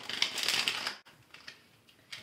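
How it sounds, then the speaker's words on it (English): Tarot cards are shuffled close by in a dense crackling rush that lasts about a second, then gives way to softer scattered rustles and taps. "Okay, I'm gonna shuffle these cards."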